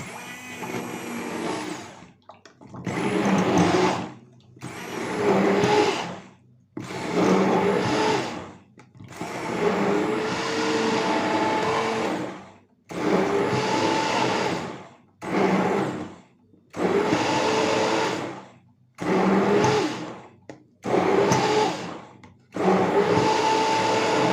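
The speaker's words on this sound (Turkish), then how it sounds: "Hemen blenderla ayranımı hazırlamaya başlıyorum." A blender whirs in repeated bursts, mixing ayran (yogurt drink) with basil, about ten loud pulses of a few seconds each separated by short pauses.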